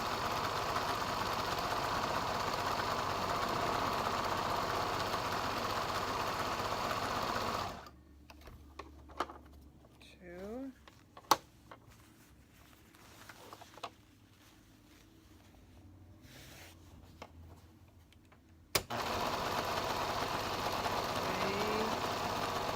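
A sewing machine stitching kids' pants runs in steady rapid bursts of stitching, stops for a quiet stretch with faint handling sounds, then starts up again.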